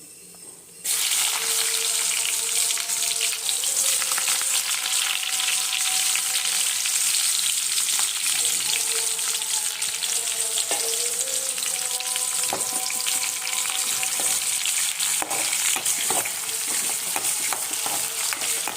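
Onions drop into hot oil with spluttering cumin for horse gram palya: a soft start, then a sudden loud sizzle that holds steady with scattered crackles and stirring clinks, close by.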